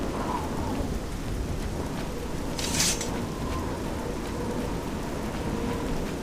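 Steady rain pours throughout in the game Oblivion with a low rumble of thunder underneath, and a brief brighter crackle midway; no voices.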